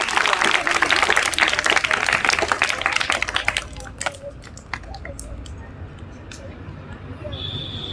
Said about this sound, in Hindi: वो ताली बजाओ।